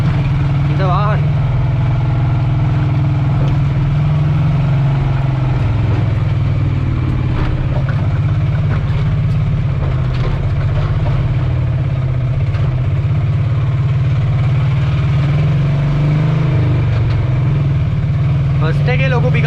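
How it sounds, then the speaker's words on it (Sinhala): Loud, steady diesel engine of a Bajaj RE Maxima cargo three-wheeler, a deep continuous drone that holds throughout at close range, with faint background voices and road noise during the drive. "සද්දේ පොඩ්ඩක් ඩීසල් හින්දා සද්දේ ටිකක් වැඩි."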